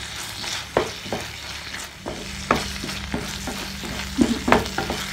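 Dried anchovies, small onions and garlic sautéing in a pan, a steady frying sizzle with periodic scraping stirs of a spoon, close and clear with no talking.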